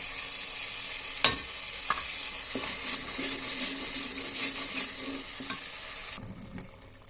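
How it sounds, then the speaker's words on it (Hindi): Ground masala for a chickpea curry frying and being stirred in a pan, a steady sizzle with a few scrapes and clinks, close and alone, quieting near the end. "यहाँ मसाला हमारा भुन गया है, हम डालेंगे इसमें थोड़ा सा गरम मसाला।"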